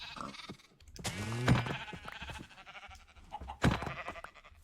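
Sheep bleating in the modded Minecraft pack FTB Skies Expert, two loud, wavering blocky-game bleats spaced a couple of seconds apart over a soft background of game ambience.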